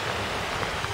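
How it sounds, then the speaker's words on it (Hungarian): A fountain splashes in the Suhl town centre, a steady, hissing patter of falling water, close and continuous, with no voices. "szökőkút,"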